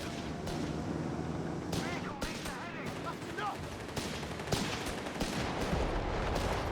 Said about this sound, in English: to the target with artillery ready to barrage on sight